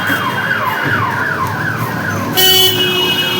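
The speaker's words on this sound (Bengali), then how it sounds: "ওই যে অ্যাম্বুলেন্স যাচ্ছে।" An ambulance siren wails steadily and loudly in a repeating rise-and-fall pattern as it passes near Srinagar hospital, heard from a street with no talking.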